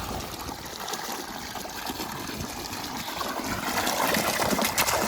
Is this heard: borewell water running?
yes